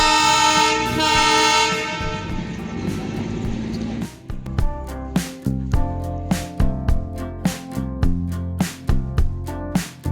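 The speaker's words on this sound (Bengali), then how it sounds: "এখন বিকেলবেলা দেখছি একটা টয় ট্রেন এখান থেকে বেরিয়ে যাচ্ছে" A Darjeeling toy train pulls out of the station, sounding a long tonal horn blast for several seconds, followed by a steady series of rhythmic loud chuffs or clanks as it gets moving nearby.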